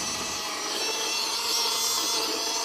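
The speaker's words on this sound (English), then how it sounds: "I can hear the M&Ms rattling about inside." A pink plastic USB blender grinding M&Ms, giving a continuous harsh whirring buzz with a gritty rattling texture, steady and close for the whole stretch.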